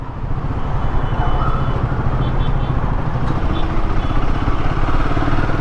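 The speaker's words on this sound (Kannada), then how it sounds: "ಸೆಕೆಂಡ್ ಗಿಯರಲ್ಲಿ ನಾನು ಲೋ ಎಂಡ್ ಟಾರ್ಕು ಚೆಕ್ ಮಾಡ್ತಾ ಇದ್ದೀನಿ" A Royal Enfield Himalayan 450 adventure motorcycle pulls in second gear on a test ride, its engine a loud, steady roar blended with constant wind rush from start to finish.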